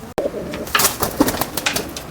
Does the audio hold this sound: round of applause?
no